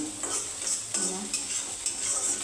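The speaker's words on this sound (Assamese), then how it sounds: "এইখিনি আদা নহৰু ভাজিম।" Ginger and garlic frying in a pan at home, a steady sizzle broken by several short scraping stirs of a utensil, close and fairly loud, with no voices.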